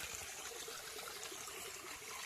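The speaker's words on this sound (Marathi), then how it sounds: "पाणी बघा किती स्वच्छ आहे एकदम." Clean water trickles steadily in a Konkan evening setting, a faint, continuous wash of liquid sound with no voices.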